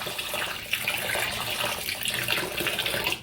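Food being rinsed under running water, a continuous splashing tap-water flow with uneven sloshing, close by and with no voices.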